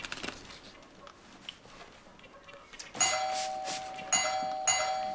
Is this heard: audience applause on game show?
no